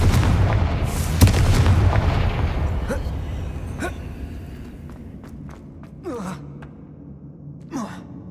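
A fire spell from the video game Hogwarts Legacy bursts in a loud explosive boom near the start, followed by fainter crackling impacts and debris rumbling that trail off over several seconds.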